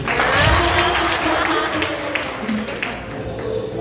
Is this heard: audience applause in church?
yes